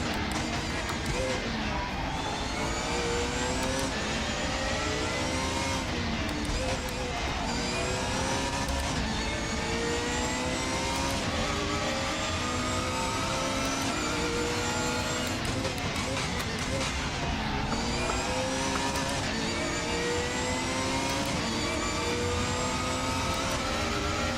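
Race car engine in the RaceRoom racing game, revving steadily with rising and falling pitch through gear changes and early downshifts, loud and continuous for the whole stretch, with someone talking over it.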